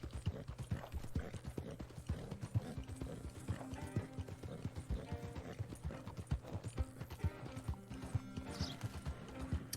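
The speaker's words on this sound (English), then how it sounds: "Oh, wild horses." Wild horses in Red Dead Redemption 2 trot past with steady, close hoof clip-clops under a low rumbling game soundtrack, and a few whinnies and neighs rise over the hooves.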